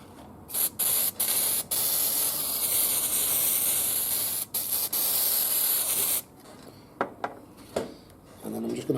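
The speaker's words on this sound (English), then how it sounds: "I'm going to use some spray mount." Spray mount adhesive hisses from an aerosol can onto the back of a model railway station frame in long, loud, close bursts with brief pauses, then quieter handling and rustling follows.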